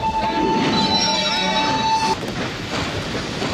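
A train in a film scene from Schindler's List: a loud, steady rolling rumble with a sustained wheel squeal that cuts off partway through, after which the rumble carries on.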